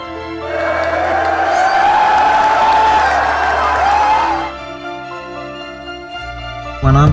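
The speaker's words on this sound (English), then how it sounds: "the Irish fans are overwhelming the American crowd" Irish fans in a Las Vegas arena roar and cheer loudly for several seconds, a massed crowd wall of sound with whoops that cuts off abruptly into quieter hum before a sudden thump.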